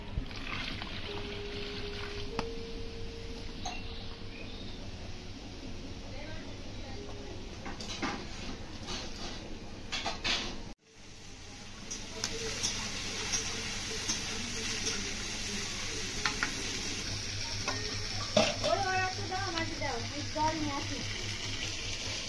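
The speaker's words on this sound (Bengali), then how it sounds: "এবার জল দিয়ে দেবো।" Water pouring into a cooking pot in a kitchen: a steady, close rushing gush that briefly cuts out midway, then carries on with a bubbling, splashing texture.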